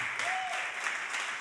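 A church congregation claps for pastor Milton Gerson, a brief, even patter of hands heard from a little distance at moderate volume.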